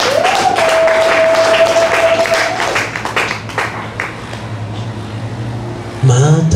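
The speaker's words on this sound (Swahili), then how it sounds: "Mpigie Yesu makofi yako" A church congregation claps for Jesus during a sermon, a rough wash of applause under a sustained tone and voices, fading somewhat before a louder burst of sound at the end.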